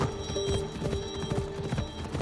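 Hooves clip-clop in a quick, steady rhythm as a horse gallops in the video game Assassin's Creed Odyssey, over a dense, busy background, with a faint horse whinny mixed in.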